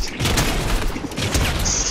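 Junk gun fire in Fortnite, a dense stretch of loud, rapid gunshots and booms running continuously for two seconds with no voice over it.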